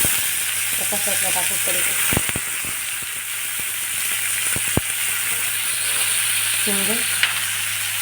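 Onion and tomato fry in hot oil with a steady bright sizzle, close and continuous, while someone speaks briefly over the cooking.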